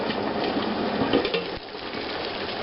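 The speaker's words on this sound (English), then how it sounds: "Rolling boil." Water churns at a rolling boil in a covered water bath canner holding jars of homemade cranberry blueberry juice concentrate, a steady dense bubbling hiss with no voices.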